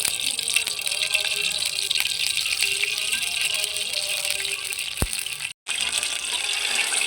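Ghee pours into a hot pan for temple-style sweet rice prasadam, making a loud, steady sizzling hiss with faint rattling that cuts out sharply for a moment near the end.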